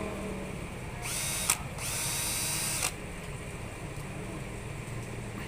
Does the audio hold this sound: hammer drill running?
yes